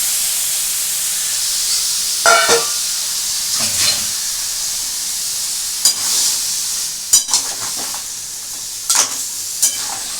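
Drained bottle gourd pieces go into a hot pan with crab and get stirred, a soft steady sizzle broken by several sharp bursts of hissing and spatula scrapes.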